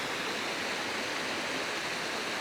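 The River Allen in Truro, Cornwall, flows past as a steady, even rush of moving water. The close, constant hiss has no break and no other sounds over it.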